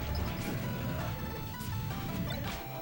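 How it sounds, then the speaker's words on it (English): An up smash attack lands in a Super Smash Bros. tournament match between Squirtle/Fox and Ganondorf, a sharp crash buried in a loud, continuous crowd roar. "And he finally gets an up smash to take it."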